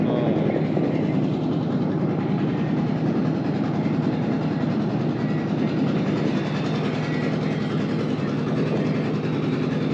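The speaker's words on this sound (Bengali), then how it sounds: "আমাদের ইঞ্জিন বোটটা এরকম বাঁকে বাঁকে বাঁকে চলতেছে" An engine boat motoring along a winding river in Kishoreganj, its motor droning in a steady dense rumble with constant wash noise, loud and unbroken for the whole stretch, with no voices.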